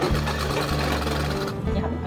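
A sewing machine runs steadily while stitching a ladies' shirt, a close continuous mechanical whir with a low hum that breaks briefly and resumes.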